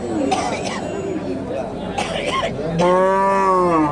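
A native cow moos loudly near the end at a Bogura cattle market, a long drawn-out low call, after stretches of people talking nearby.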